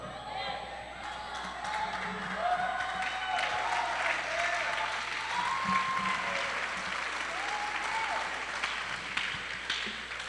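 Sustained audience applause fills a church service for a sermon on God's grace, a dense, steady wash of clapping across the whole stretch, with faint tonal sounds drifting underneath.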